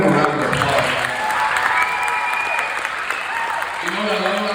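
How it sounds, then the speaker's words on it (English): Round of applause at a school visit by Mark Henry, loud sustained clapping and cheering from a crowd, with voices talking over it near the start and end. "Let's give him a round of applause."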